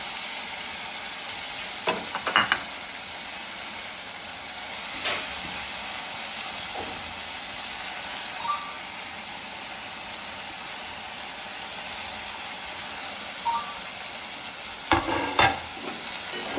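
Tomato, coriander powder and drumstick leaves are stirred in a hot pan while cooking dal, a continuous sizzle and hiss with occasional scraping knocks of the spoon against the pan, close and steady with no talking.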